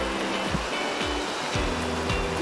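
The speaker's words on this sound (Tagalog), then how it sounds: "Ito yung tinatawag na Toto kasi may mga tumataga sa tubig galing doon sa taas" Water pours steadily from above at a small natural waterfall, a constant loud rushing wash with low thumps of splashing beneath.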